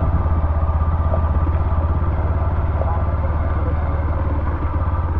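A motorcycle engine runs steadily on a wet road in light monsoon rain, a continuous low, close rumble with faint clatter that holds at an even level throughout.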